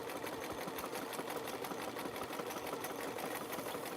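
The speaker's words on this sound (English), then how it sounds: "my buddy gave me a sewing machine, a Kenmore" A Kenmore sewing machine runs in a steady, continuous whir, close and even-toned for the whole stretch, its motor buzz never pausing or changing pace.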